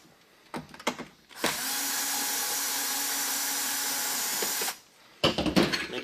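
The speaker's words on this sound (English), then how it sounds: "there's going to be 2 screws on the bottom of the machine. Go ahead and take those off." A power screwdriver backs out screws from the bottom of a machine's power head cover while changing a bypass valve sensor, running in one steady whir of about three seconds with brief clicks and handling noise before and after.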